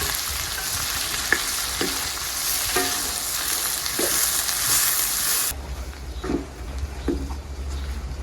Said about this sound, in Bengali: প্রথমে পেঁয়াজ লাল লাল করে ভেজে নেব